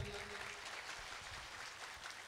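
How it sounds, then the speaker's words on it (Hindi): A crowd at a village chaupal gathering in Kakda cheers on Bhavya Bishnoi with a continuous, distant wash of clapping, steady and faint throughout. "भव्य के लिए जोरदार तालियां।"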